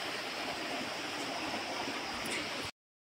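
Steady rushing water flows through a drain channel beside a cowshed, a continuous close wash of noise that runs without a break, then cuts off abruptly near the end.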